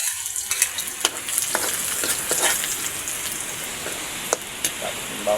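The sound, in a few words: garlic sizzling in a pan for sweet and sour sauce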